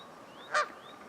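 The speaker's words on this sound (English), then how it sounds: "There's these Canadian geese here." A single loud, nasal honk from a nearby Canada goose at a lakeside campsite, short and sharp, set against quiet outdoor background with faint bird calls.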